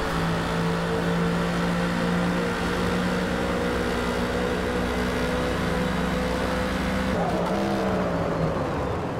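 Racing engine of a Mercedes-AMG GT3 race car in the Forza racing game drones steadily and loudly throughout, with layered engine tones holding level and then shifting pitch near the end as it changes speed.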